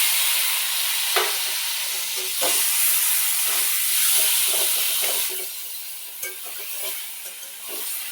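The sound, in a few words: mashed eggplant and tomato poured into frying onion, sizzling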